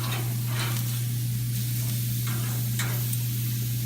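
A flipped steak on a grill gives a loud, continuous close sizzle with a few brief crackling spits, under a steady low electrical hum, and no voices.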